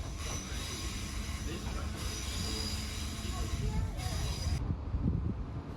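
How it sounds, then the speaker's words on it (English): A commuter train on the Greystones to Dublin coast line crosses the River Liffey toward Dublin Connolly, a steady loud rolling rumble with wheel squeal and rattling carriage noise throughout, heard from inside the carriage. "We cross over the River Liffey as the train makes its way to Dublin Connolly."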